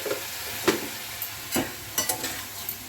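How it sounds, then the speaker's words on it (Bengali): A little hot water added to spiced potatoes with fenugreek leaves frying in a pan, then stirred: a soft, low sizzle broken by several short, sharp scraping and splashing bursts, close by. "প্রথমে অল্প একটু জল দিই"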